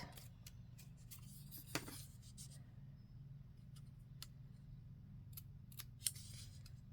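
Scissors snip through paper for a butterfly journal, a few quiet crisp cuts standing out over a steady low hum in a calm indoor room.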